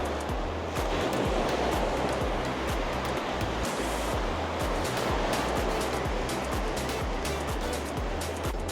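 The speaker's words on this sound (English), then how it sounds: "Can you hear that sea?" Continuous rush of small sea waves breaking along the shore at Blackpool, steady and close, with no talking over it.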